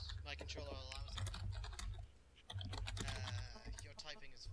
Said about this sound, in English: Your typing is very loud.